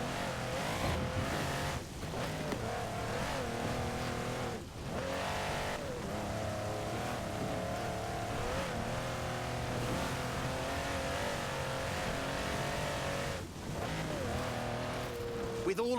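A six-wheeled 6x6 vehicle drives in Forza Horizon 4, its engine droning and shifting pitch steadily throughout, loud and close, with a couple of brief dips in the roar.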